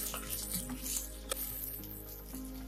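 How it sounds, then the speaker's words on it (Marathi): Sliced onion and curry leaves sautéing in a pan, a soft steady sizzle with faint stirring scrapes and occasional small pops, close and low in level throughout. "आता ह्यामध्ये आपण कढीपत्ता ऍड करून घेऊ आणि सोबतच उभा चिरून घेतलेला कांदा सुद्धा ऍड करू। कांदा ट्रान्सपरंट होईपर्यंत परतून घ्यायचा आहे।"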